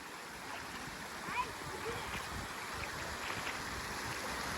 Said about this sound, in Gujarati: પાણી કેવું સરસ જાય છે પુલ ઉપર